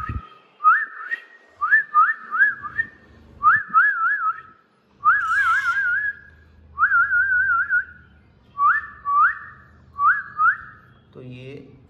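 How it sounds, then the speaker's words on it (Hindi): A person whistles repeatedly to call a young Alexandrine parrot during free-flight training, giving short rising and trilling whistle bursts in a steady series, close and loud over faint background sound. "फिलहाल मैं सीटी ही मारकर बुला रहा हूं"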